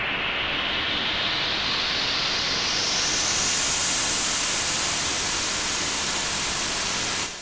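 A loud synthesized white noise pass washes on continuously, its filter slowly sweeping upward so the hiss brightens over several seconds before cutting off abruptly at the end.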